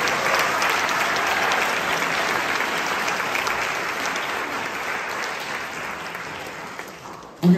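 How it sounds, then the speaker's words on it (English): Sustained audience applause at a college jazz concert honoring special guests, steady dense clapping for about seven seconds before it cuts off abruptly. "One more round of applause for our special guests"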